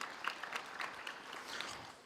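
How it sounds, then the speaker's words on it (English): A Walter Sisulu University graduation audience gives a round of applause, a faint, distant and steady patter of many hands that fades slightly toward the end. "Can you give them a round of applause, please?"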